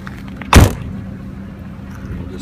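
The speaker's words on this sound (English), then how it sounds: "So let's close this door." A heavy door on a 2004 Mercedes CL500 coupe closes with a single solid thud, close and loud, followed by quiet background.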